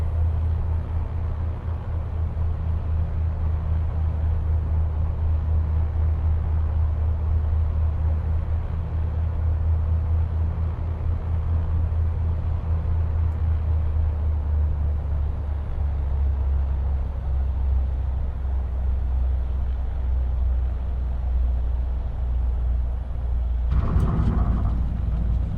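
A Piper PA-28-236 Dakota light aircraft rolls down the runway after landing, with a steady, loud low engine and rumble drone throughout and a brief brighter burst near the end.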